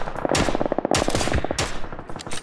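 Rapid automatic gunfire from a video game, loud and close, with dense bursts of repeated shots coming in waves and brief pauses between them.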